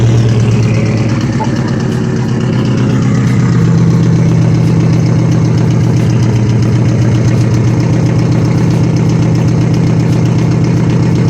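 A 2005 Subaru Impreza WRX with a new exhaust starts and idles steadily with a deep, throaty exhaust rumble, loud and close, holding a constant pulsing tone throughout.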